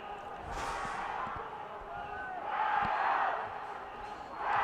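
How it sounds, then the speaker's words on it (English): A rugby sevens stadium crowd in China swells in waves of chanting and cheering, rising and falling at moderate distance with a few thumps underneath. "Big chant goes up, and any minute now a Mexican wave might break out"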